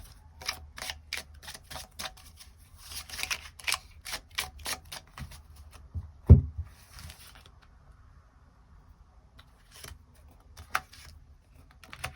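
Tarot cards are shuffled and drawn in a rapid, dry patter of crisp slaps and flicks, with one sharp louder snap at the midpoint. Softer ticks follow, and there is no talking.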